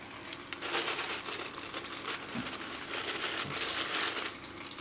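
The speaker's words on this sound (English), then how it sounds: "And we'll take that plastic bag out." A plastic bag crinkles and rustles continuously as it is handled up close beside a survival stove, a dense crackling texture that swells and eases without talk.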